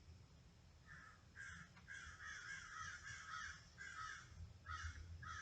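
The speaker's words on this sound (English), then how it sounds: "The only one cheering and liking this video are the crows." Several crows caw in repeated harsh bursts, some overlapping, at a moderate distance over a soft background rumble, with no talking.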